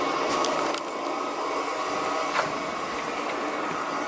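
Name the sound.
vacuum cleaner running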